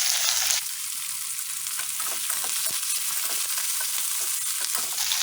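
Chopped garlic frying in oil, a dense crackling sizzle that flares loud at the start, then settles into a steady spitting hiss with small pops throughout.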